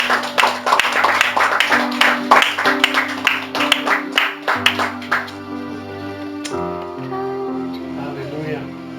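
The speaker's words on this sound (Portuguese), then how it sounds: "Vamos aplaudir o Senhor Jesus" Church congregation applauding during a worship service, with rhythmic clapping over sustained keyboard music, then the clapping stops as the music continues.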